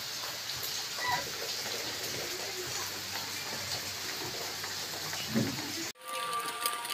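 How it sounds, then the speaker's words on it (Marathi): Steady heavy rain hiss fills the air over a waterlogged soybean field, a broad constant wash with faint scattered drips, briefly cutting out near the end before resuming. "पाऊस किती जोरात पाऊस चालू आहे।"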